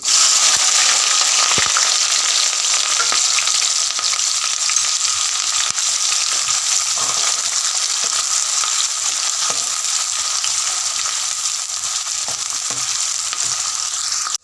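Onion and green chillies frying in a pan for a dondakaya (ivy gourd) masala curry, a loud continuous crackling sizzle close up with a few faint stirring knocks, no voices.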